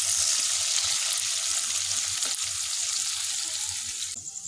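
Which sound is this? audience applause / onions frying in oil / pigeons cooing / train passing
onions frying in oil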